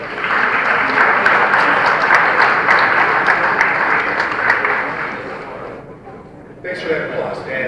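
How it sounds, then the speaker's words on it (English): Town hall audience applauding a dense, sustained wash of clapping that gradually fades and thins out toward the end. "Thanks for that applause, Dan."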